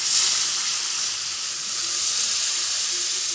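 Water poured onto fried spice paste for a vetki fish dish makes the pan hiss loudly in a dense, even sizzle that holds steady for a few seconds, close and without voices.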